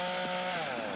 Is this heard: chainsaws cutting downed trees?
yes